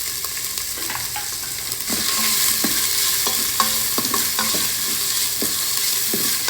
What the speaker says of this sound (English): Stir fry the onions till they become slightly translucent.